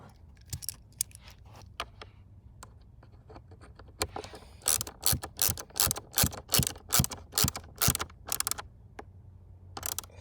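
A screw is driven back into a plastic interior panel on a 2013 Dodge Dart with a hand tool, giving a close run of sharp ratcheting clicks that quickens into dense bursts over the second half.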